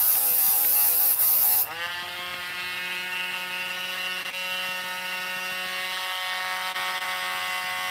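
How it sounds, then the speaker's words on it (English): A Dremel rotary tool sands metal marks off a polished rock, giving a steady high-pitched motor whine with a grinding rasp that shifts pitch at the start and then holds constant throughout. "Sand off all those little metal marks from the Dremel."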